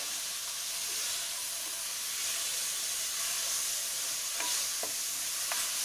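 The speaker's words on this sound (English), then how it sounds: "Okay, and then you drop in your tomatoes" Tomatoes frying in a hot pan give a steady, close sizzling hiss, with a few brief scraping stir sounds near the end.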